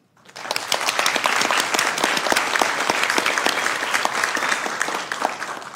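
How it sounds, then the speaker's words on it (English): At a Sacramento City Council meeting, the room breaks into a round of applause for the mentors, rising quickly into loud, dense clapping that holds steady throughout. "they deserve a round of applause"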